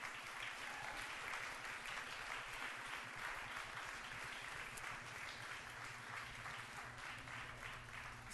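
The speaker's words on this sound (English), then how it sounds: "let's give them the first applause." A congregation applauding new members: sustained, fairly faint clapping from a crowd in a hall, even and unbroken for about eight seconds.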